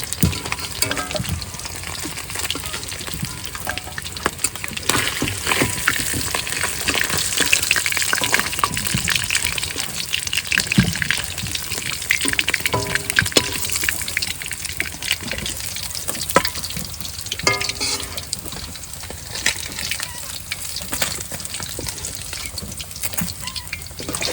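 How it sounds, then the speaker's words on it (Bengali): Steady crackling and sizzling of fish frying in hot oil, with occasional stirring and clinks, continuous and fairly close throughout. "মাছ ভাজা হয়ে গেছে এবার নামায় নেব"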